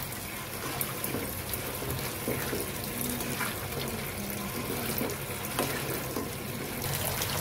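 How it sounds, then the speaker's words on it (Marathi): A steady stream of water pours and splashes continuously into a cooking pot of cowpeas and potatoes, moderately loud and close, with no talking. "पाणी टाकून घेतलंय."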